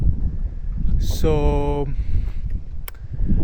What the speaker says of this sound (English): It's too many noises, too windy, too uncomfortable